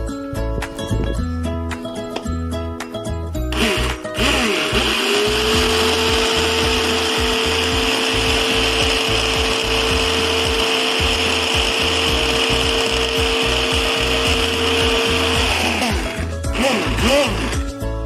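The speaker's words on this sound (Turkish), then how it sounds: "blenderda güzel bir şekilde karıştıracağım" A blender whirs loudly and steadily for over ten seconds, mixing roasted eggplant soup, starting and stopping abruptly, with clattering before and after.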